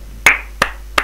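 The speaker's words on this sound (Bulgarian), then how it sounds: "Аплодисменти!" Three separate hand claps, sharp and close, spaced roughly a third of a second apart with quiet between them, heard during a Minecraft gaming stream.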